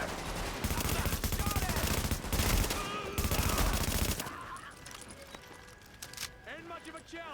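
Rapid automatic gunfire and overlapping shots from the shooter video game The Division, loud and dense in bursts, with a voice talking over the firefight and the shooting thinning out toward the end.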